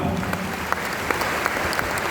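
An audience in Dadanagar Hall bursts into dense, steady applause, many hands clapping loudly and continuously for the whole stretch.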